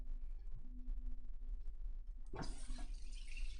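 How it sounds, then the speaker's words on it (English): Water from a salon shampoo bowl sprayer gushes on suddenly over rinsed hair after a few soft drips and handling noises, then runs as a steady close hiss. "So after we have cleansed their hair, we're going to rinse it."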